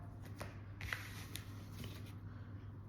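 Moonology oracle cards shuffled by hand, a quiet run of soft papery riffles and flicks over a steady low hum, with no talking.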